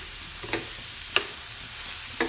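Carrot halwa with jaggery cooking in a pan, giving a soft steady sizzle with a few faint scraping stirs or clicks at intervals, no talking.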